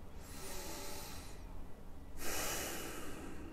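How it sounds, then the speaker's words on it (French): Slow, deliberately exaggerated deep breathing during a relaxation exercise: a long airy inhale, a brief pause, then a fuller rushing exhale, close but soft, with no talking. "Exagérez volontairement cette respiration."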